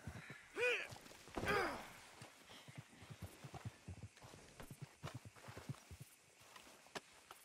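Horse hooves clip-clop in Red Dead Redemption 2, a quick irregular run of soft close thuds following two louder breathy snorts near the start.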